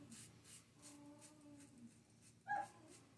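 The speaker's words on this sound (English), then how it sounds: "So that was irritating Tony, our German Shepherd" German Shepherd dog whimpering faintly indoors, soft thin whines drawn out near the middle, then a sharper brief yip-like cry toward the end, quiet and close.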